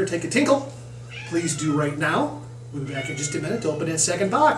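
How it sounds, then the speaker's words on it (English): A cat meows repeatedly and excitedly in the background while a person talks over it. "If you hear the cat's very excited to be outside today"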